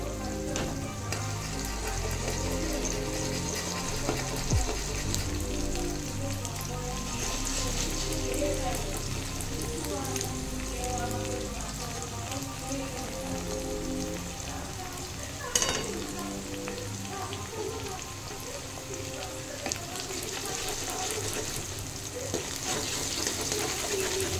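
Egg cracked into a cleared space in a pan of frying potatoes for chow noodles, sizzling steadily with stirring and scraping, close and continuous, with occasional clinks of a utensil.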